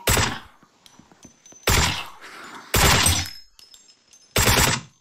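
Weapon fire in the video game Deathly Stillness: four loud, sharp shots spaced about a second apart, each with a short crack and a bolt-action clatter, with quiet gaps between.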